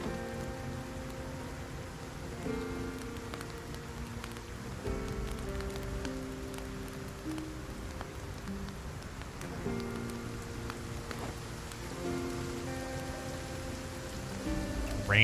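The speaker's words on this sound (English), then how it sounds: "Rain sound. It's like cold sounding rain too." Steady, cold-sounding rain falls in the zombie survival game Project Zomboid, a continuous even patter over soft sustained background tones, with no voices.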